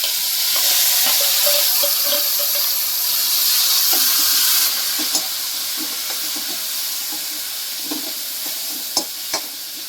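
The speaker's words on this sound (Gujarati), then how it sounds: "હવે કાંદા ટમેટાને આપણે સાતળવા દઈશું" Onions and tomatoes sautéing in a pan for batata poha, a steady close sizzling hiss with occasional soft stirring clicks and scrapes, no talking.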